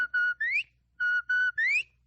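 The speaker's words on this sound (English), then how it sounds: "This whistle means robbery at the First National Bank." In an old-time radio police drama, a person whistles a short signal twice: two steady notes followed by an upward-sliding note, repeated after a brief pause, clear and close.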